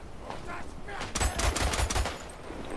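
A quick burst of rapid gunfire from the video game Isonzo, several sharp shots in a fast rhythm, with a faint voice in the background.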